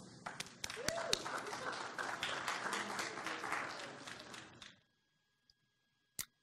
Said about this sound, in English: let's give them a round of applause to start them off